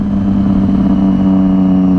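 Loud, steady engine drone from a Triumph Street Triple 675R running aftermarket SBK dual exhaust pipes, a sustained rumbling note held close and unbroken for the whole stretch, with no voices.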